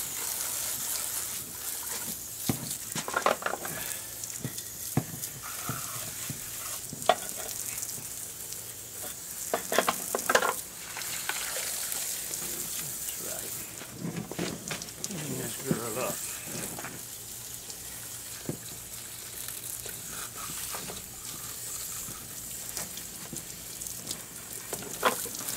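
Continuous hiss of water spraying over a Mercury, Yamaha or Johnson outboard boat motor, a steady rinsing wash with intermittent splashes and some talk underneath.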